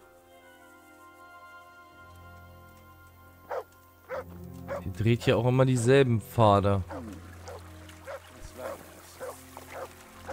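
A dog barks in a German-language playthrough of the medieval video game Kingdom Come: Deliverance, several sharp close barks in a short burst around the middle, with someone talking before and after.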